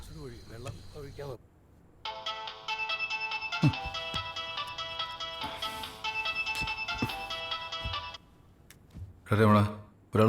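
A phone ringtone plays as a steady tonal melody for about six seconds, preceded and followed by voices talking, with a few soft knocks underneath.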